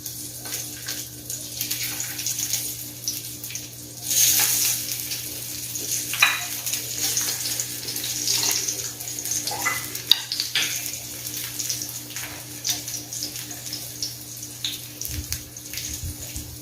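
Sweet potato tikki patties fry in hot oil in a pan, giving a steady close sizzle and crackle with occasional louder spattering bursts, no voices over it.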